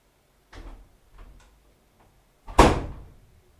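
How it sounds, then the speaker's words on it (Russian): A door swings shut indoors with a single loud, close thud near the end, after a few softer knocks and shuffles of handling. "Да нормально, закрой дверь."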